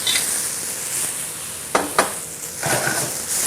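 Cognac is poured into a hot pan of sweated shallots and sizzles loudly, with a couple of sharp clinks against the pan and a rising crackle as it bubbles up.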